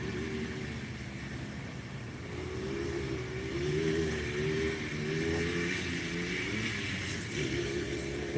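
A vehicle engine runs with the clutch pulled in, giving a steady, continuous idle hum at close range with no voices.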